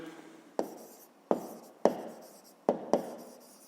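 Pen strokes on paper during a fifth-grade math exercise: five short scratchy bursts with sharp onsets and quick decay, fairly close and quiet, with no talking.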